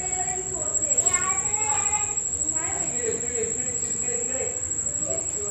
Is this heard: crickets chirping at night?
yes